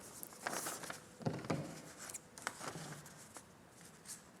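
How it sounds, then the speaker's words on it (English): Scissors cut along the center fold of folded paper while making an instant book, giving quiet, close snips and soft paper rustles in an irregular rhythm with pauses between them. "taking a scissors, cut from on this center line from the middle to that quarter line."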